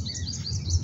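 High, thin bird chirps flicker repeatedly over a low steady rumble, brief and close together.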